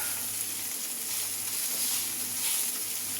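Burgers sizzle and crackle steadily in a hot pan as they fry, a loud, continuous hiss with no talk over it.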